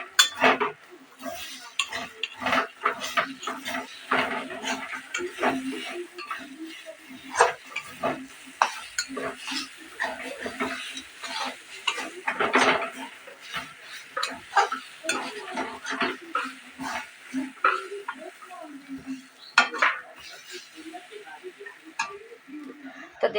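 A utensil stirs mashed taro in a pan, making irregular scraping and clinking strokes over a faint sizzle, close and fairly loud, with occasional gaps between movements.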